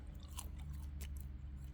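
Chewing a piece of Woolworths barbecue beef jerky, close soft mouth sounds with a couple of brief crunchy bites, quiet and alone.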